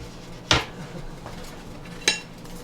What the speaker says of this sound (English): Chopsticks are great here because it will get all this cheese melted to the sauce.